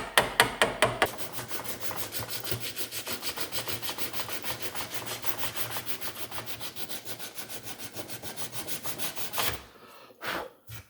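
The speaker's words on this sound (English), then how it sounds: "Now I'm just cleaning out all the old rust out of the eye to help the fitting process work better." Rapid back-and-forth rasping and scraping inside the eye of an old axe head to clear out rust, close and continuous, ending with a few slower, heavier strokes.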